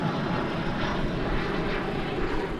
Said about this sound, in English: Arriving now from Monterrey in Mexico, American Flight 2168, an Airbus A319